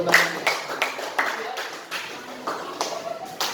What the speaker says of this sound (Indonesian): Tepat sekali, tepuk tangan buat